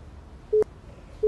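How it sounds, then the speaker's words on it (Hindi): Telephone busy signal heard as short, steady electronic beeps on a phone line, one clear tone followed by the start of another after a pause, over a faint background hum. "उसका नंबर पता नहीं एंगेज आ रहा है बिजी आ रहा है"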